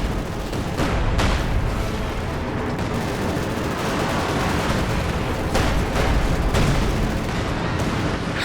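StuG assault gun firing in a Company of Heroes 2 match, a dense run of booming cannon and gunfire shots over a continuous loud battle din with no clear pauses.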